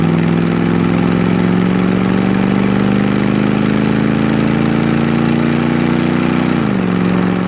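A 1972 Chevrolet Camaro RS with a numbers-matching 350 V8 and automatic transmission pulls steadily under throttle while driving, its loud continuous engine drone rising slowly in pitch before dropping suddenly near the end.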